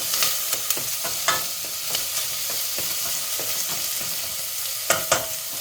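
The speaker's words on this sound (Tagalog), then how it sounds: "Lutuin lang natin hanggang maging brown ang ating sibuyas." Onions sizzle steadily as they fry in a pan until brown, a constant close hiss broken by occasional stirring scrapes.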